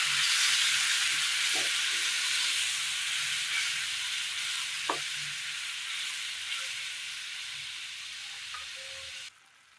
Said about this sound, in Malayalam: ഇതിലേക്ക് അല്പം വെള്ളം ഒഴിച്ചു കൊടുക്കാം.